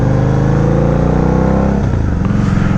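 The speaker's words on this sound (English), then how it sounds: "if you hear that pipe, it's got a Vance & Hines full pipe exhaust system" A 2006 Harley-Davidson Night Rod with a Vance & Hines full exhaust idles with a deep, pulsing rumble, then blips the throttle for a brief, sharp rise in revs near the end of the short burst.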